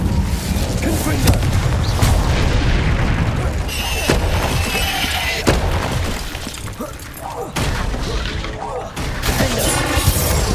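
Confringo blasting spells fired repeatedly in Hogwarts Legacy during a troll fight, a dense, loud barrage of booming explosions and crashing impacts layered with continuous combat noise, with sharp bursts recurring every second or two.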